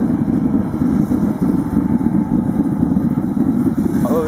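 A homemade oil atomizer burner fed by an air compressor, running short on fuel, gives a continuous steady low roar and rumble, loud and close, with a faint higher whine near the end.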